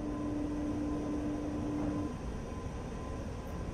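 F-86F Sabre jet engine spooling up slightly in the DCS flight simulator on landing approach, a steady broadband roar with a thin whine that holds, then eases a little.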